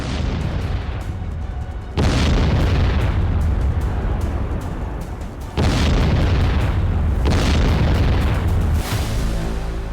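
Israeli bombing strikes on Iranian nuclear sites: heavy, continuous rumbling blasts with several sudden booming surges, loud and sustained throughout with no speech.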